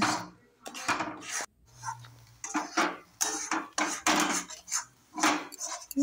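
Green peas are stirred in a pot while they boil, making repeated scraping and clinking strokes of a utensil against metal in irregular bursts, close by, with brief quiet gaps and no speech.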